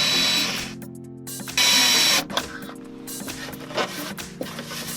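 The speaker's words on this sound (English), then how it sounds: "So I'm going to drill very gently in as soon as it goes through" A drill whirs in short bursts into a car dashboard, starting and stopping, with a loud high-pitched spin in the middle and quieter grinding around it.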